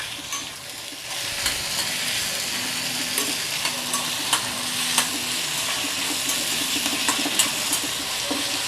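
Tomato sautés with softened onions in a pan, giving a continuous close sizzle with frequent light spatula taps and stirring scrapes, and no voices.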